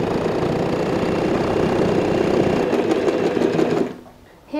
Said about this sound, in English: I've changed my foot so I could get a neat edge stitch and place it like so, and sew an edge stitch.